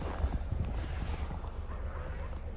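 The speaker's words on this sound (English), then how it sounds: "It's a little windy out." Wind rumbles and buffets against the microphone, a steady low roar with soft gusty hiss, moderately loud and continuous.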